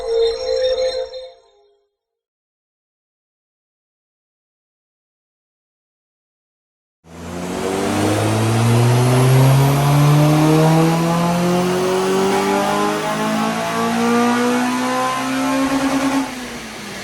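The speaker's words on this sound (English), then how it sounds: "one's now going to go on the dyno and get mapped" A modified Honda Civic Type R on a dyno. A short burst of engine sound cuts to silence, then the engine revs loud and close, climbing steadily through the gears for about ten seconds.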